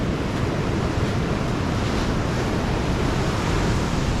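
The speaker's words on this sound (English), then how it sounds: "Pacific Ocean." Pacific Ocean surf rolls in as a dense, continuous wash of breaking waves, loud and steady with wind buffeting the microphone and no voices.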